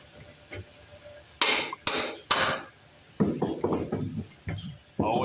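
Three sharp, loud hammer blows on a socket fitted over the crankshaft end to loosen the flywheel of a 1952 Briggs engine on an Eclipse reel mower, followed by quieter clinks and taps.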